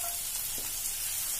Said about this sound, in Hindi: और इसे हमें तेज आंच पे ही भूनना है 2 से 3 मिनट के लिए।